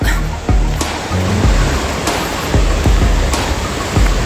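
Waves break along the beach at the seaside, making a loud, continuous rushing surf. Sharper splashes come through at intervals over the wash, close by and with no talk.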